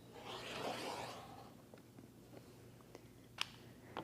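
Rotary cutter slicing quilt fabric on a small cutting mat, a soft steady scraping swish early on, followed by faint light ticks and taps.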